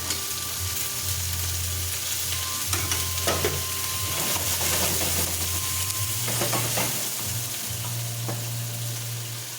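Pork sizzles steadily in hot oil with garlic and onion, with occasional stirring and scraping in the pan, close and continuous without talk.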